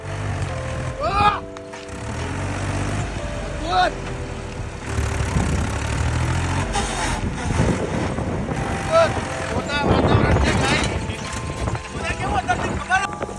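Tractor engine rumbling at a farm site in the rain while raising its load, a low droning hum with uneven mechanical knocks and thumps under frequent nearby talk.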